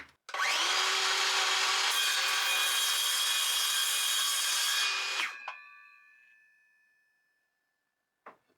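A power saw cuts through a wooden beam for reinforcing a frame on off-grid land, a loud, close, sustained whine for about five seconds, then the blade spins down and fades, followed by a brief knock.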